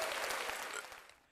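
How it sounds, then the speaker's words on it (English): Crowd applause at a varsity baseball game, a dense wash of clapping that starts loud and fades away over a second or so. "Can we get a round of applause?"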